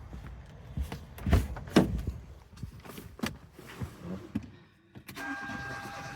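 A Hyundai engine on a weak, dying battery cranks without catching, with uneven groaning turns and clunks, then a brief electronic whine at the end.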